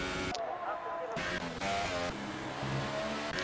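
Race car engine screams through a hot lap at Melbourne in a racing video game, a loud, sustained engine note with shifting pitch as gears change, while a commentator talks over it.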